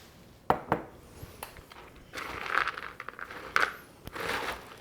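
Cooked sausage being stirred into holiday stuffing in a bowl, giving soft scraping, crinkly mixing sounds with a few sharper clinks of a utensil, close and fairly quiet.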